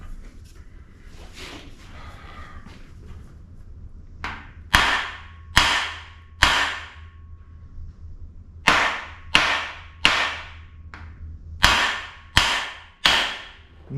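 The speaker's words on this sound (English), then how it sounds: "I'm going to go around the engine and I'm going to shock as many of these as I can get to with this hammer" Hammer blows ring out against the seized iron of a rusty, stuck Mopar engine, a dozen or so sharp metallic cracks in uneven clusters, close and bright over faint background noise with soft scraping before them.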